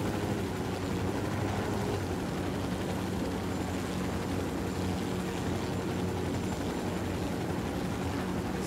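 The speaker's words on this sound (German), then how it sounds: "Und dieser Helikopter ist geil." A helicopter flying in the video game Ghost Recon Wildlands gives a loud, continuous rotor and engine roar that fills the whole stretch steadily, with no voices over it.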